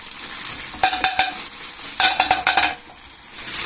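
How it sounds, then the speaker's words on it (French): Meatballs sizzle steadily in a little hot oil in a pan, with a few bursts of scraping and stirring. "Donc on fait chauffer les boulettes, hein."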